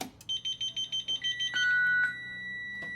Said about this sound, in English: It has the old beeping